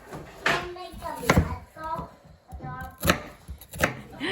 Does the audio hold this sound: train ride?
no